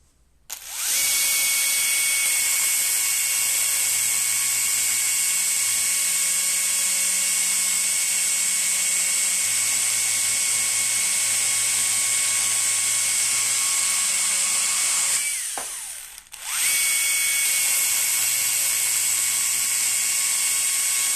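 Husqvarna battery telescopic pole saw running at half power while cutting, a loud high-pitched steady whine that drops briefly near the end and then resumes.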